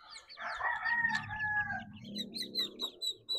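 Bantam chickens of an asil-type breed cluck and crow close by. A strained crow is heard first, followed by clucks and short high calls.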